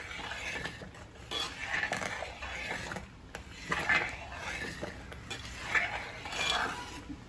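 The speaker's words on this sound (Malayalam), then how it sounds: "കുറേ സമയമായി കൈവിടാതെ ഇളക്കിയില്ലെങ്കിൽ അടി പിടിക്കും" A spoon stirs thickening kurukku made from the mukkutti plant in a pan, giving repeated soft scraping and clinking strokes at a steady rhythm, close and fairly quiet with no talk.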